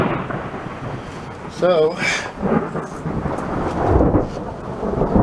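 Thunder from a passing thunderstorm rumbles through steady rain, with a louder roll midway and more distant rumbles after it, while someone says a word over the storm.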